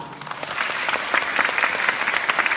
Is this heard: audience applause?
yes